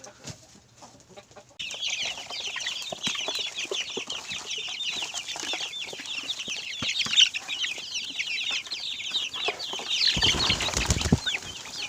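Chickens on a poultry farm, a rooster kept with its hens, cluck and chatter in a dense, steady flock din that carries on throughout, with no talking.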